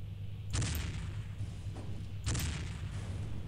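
Two deep booming tank cannon shots in Desert Thunder, each a sharp blast fading into a rumbling tail, spaced about two seconds apart over a steady engine-like hum.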